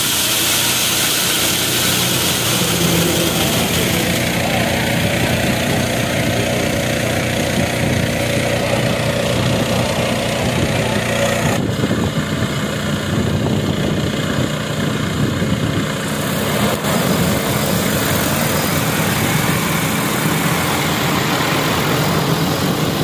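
An agricultural spraying drone runs continuously with its engine and propellers, a loud, even mechanical drone and whir that holds steady throughout with no speech over it.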